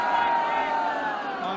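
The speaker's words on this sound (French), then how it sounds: "J'espère que vous avez entendu ces acclamations dans la rue" A street crowd in the United Kingdom cheers and shouts in a dense, steady roar of many voices, loud and continuous from start to finish.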